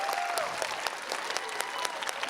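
An audience applauds an eighth grade choir at a choral festival, with steady, fairly distant clapping and a few sharper claps standing out throughout.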